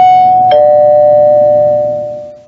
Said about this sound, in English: He went to Al's apartment and rang the doorbell.